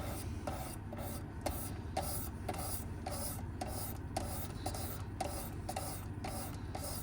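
A knife blade is drawn along a 600 grit stone on a Work Sharp Precision Adjust sharpener in steady, rhythmic rasping strokes, close and moderately quiet, repeating about twice per second.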